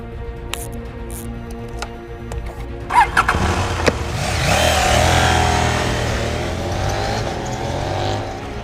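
A KTM 890 Duke R motorcycle engine, with a few sharp clicks and blips at first, then a loud engine rising and swelling to a peak before holding at a rough, steady drone, close by with no talk.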